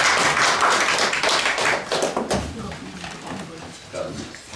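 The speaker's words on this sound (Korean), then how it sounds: "박수가 좀 미약한 것 같아요." Thin, scattered clapping from a small gathering at a Wonju Byeon clan Hansik ancestral memorial rite. It starts fairly full, then fades and thins out over a few seconds as speech continues over it.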